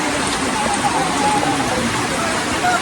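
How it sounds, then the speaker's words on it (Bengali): Steady rain pours down outdoors near a market, a continuous even hiss of falling drops with a faint tonal sound drifting underneath. "দেখুন বৃষ্টি"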